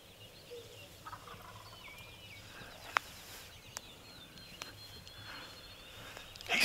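A wild turkey gobbles in the distance during a turkey hunt, faint rattling calls repeating amid outdoor quiet with a few sharp clicks and a louder bump at the end.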